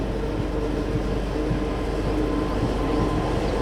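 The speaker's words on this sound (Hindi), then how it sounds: "सामने से आ रही है गोरखपुर से चलकर तिरुवनंतपुरम की ओर जाने वाली रप्ती सागर सुपरफास्ट एक्सप्रेस" The Raptisagar Superfast Express, hauled by a Kalyan-shed WAP-7 electric locomotive on its Gorakhpur–Thiruvananthapuram run, rumbles past as a steady broadband roar of wheels on rails, continuous and fairly loud throughout.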